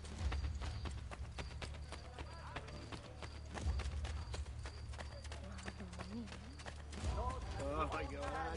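Steady clip-clop of horses hauling carriages in Assassin's Creed: Brotherhood, a continuous trotting rhythm with game ambience, while a voice talks over it.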